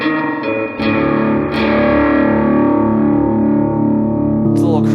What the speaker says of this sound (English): What we can try is my crunch channel.